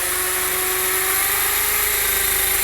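An Esky CP2 RC helicopter's rotor and motor spin up with the throttle, a loud high whine with a steady tone that rises slightly as it runs. The sound is close and continuous, with no voices.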